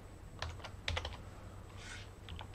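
Soft, irregular clicking of keys on a computer keyboard as code is typed, quiet and close, with short bursts of keystrokes separated by brief pauses and no voices.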